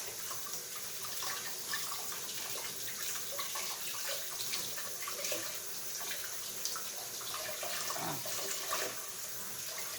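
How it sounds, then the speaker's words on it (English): Tap water runs steadily into a kitchen sink while corned beef is rinsed under it, a continuous close hiss with small splashy variations and no talk. "we're going to go on here and get this corned beef rinsed"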